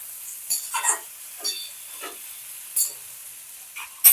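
Sponge gourd sizzling in a pan as it is stirred now and then, with short bursts of hissing and scraping at irregular intervals between quiet gaps.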